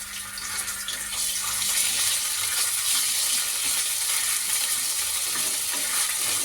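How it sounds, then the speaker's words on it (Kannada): Onions with a spoonful of ginger garlic paste fry in a pan for a Kannada horse gram sprout saaru, giving a steady close hiss with faint stirring scrapes throughout and no voices. "ಈಗ 1 ಸ್ಪೂನು ಶುಂಠಿ ಬೆಳ್ಳುಳ್ಳಿ ಪೇಸ್ಟ್ ಹಾಕೋತಾ ಇದ್ದೀನಿ"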